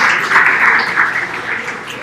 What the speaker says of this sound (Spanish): un aplauso por favor para que empiecen a calentar